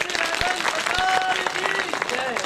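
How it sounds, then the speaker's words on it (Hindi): Audience applause at a karate-themed gathering, dense clapping throughout with a voice speaking over it and a few sharp claps standing out. "तालियां तो हो जाए"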